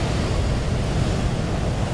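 Large storm waves at Lantic Bay crash and churn continuously, a loud, dense roar of surf mixed with heavy wind buffeting the microphone, with no voices.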